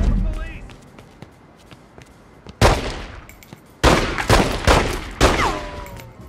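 Heavy shotgun blasts in The Godfather 2 video game, four loud booming shots spaced irregularly over a few seconds, each with a sharp attack and short decaying tail, preceded by quieter ambient game sounds.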